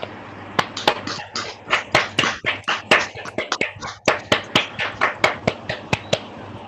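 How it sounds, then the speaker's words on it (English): Claps ring out at a leadership institute completion ceremony, separate and fairly close, each one distinct rather than blending into a dense wash, with a loose uneven rhythm. "just one last round of applause for everyone for a job well done"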